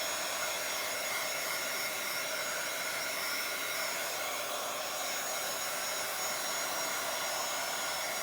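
A heat tool blows hot air to dry ink on a Bible journal page, making a steady, loud, airy whooshing hiss throughout with no speech.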